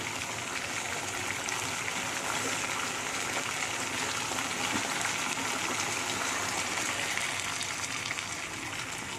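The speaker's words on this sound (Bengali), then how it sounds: "এর মধ্যে এবার দুধটা দিয়ে দেবো।" Milk poured into a cooking pan while making restaurant-style shahi doodh paneer, a steady continuous liquid gush and splash that holds at an even, fairly loud level throughout, with no talking.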